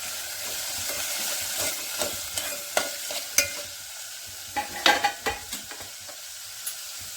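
Onion frying with potato in tempering oil for a cabbage bhaji, a close hissing sizzle broken by sharp clacks and scrapes of a spoon stirring against the pan, irregular and fairly loud.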